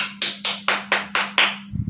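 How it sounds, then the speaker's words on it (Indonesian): A junior high science class in Indonesia claps in unison for a student group: six sharp, evenly spaced claps over a low electrical hum, followed by a brief softer patter. "Beri tepukan."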